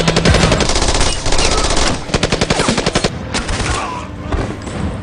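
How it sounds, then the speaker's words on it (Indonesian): Loud, sustained automatic gunfire in a film scene where armed attackers gun down police, rapid bursts of shots rattling continuously and densely throughout. "Mendengar suara gaduh tembakan"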